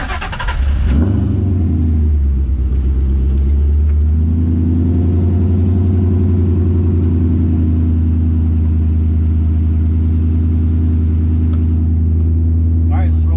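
Race car engine firing up from cold with a sharp catch, then settling into a loud, rumbling steady idle close by, with a few faint voices at the very end.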